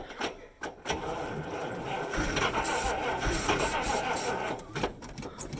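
The engine of an old truck, a 1975 International Fleetstar or 1960 Mack B-61, cranks with rhythmic starter pulses and then catches into a rough running roar, heard close and moderately loud, with cold, stale-fuel reluctance.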